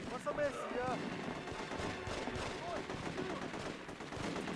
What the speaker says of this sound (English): Jazz, stop shooting me.